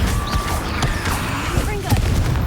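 Fire spell cast in Hogwarts Legacy, a burst of game combat effects with crackling whooshes and booming hits layered over music and background noise, under shouted voices.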